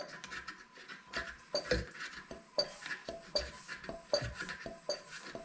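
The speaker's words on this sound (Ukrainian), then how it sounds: "Чуєте, клапан відкривається, закривається." Steady, evenly spaced metallic clicks from air compressor valves opening and closing, ticking about twice a second over a low mechanical hum.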